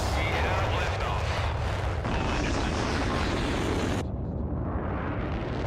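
A rocket lifts off in the video game MindsEye with a loud, sustained broadband roar and rumble that fills the whole stretch without pause, cutting to a duller, muffled roar partway through.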